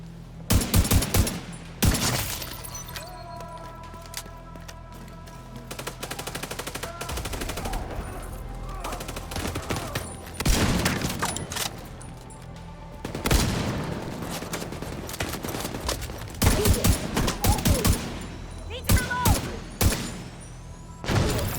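Gunfire from The Division 2, set in New York City, crackles in rapid bursts and dense volleys with heavy thuds between them, loud and close across the whole stretch with brief pauses.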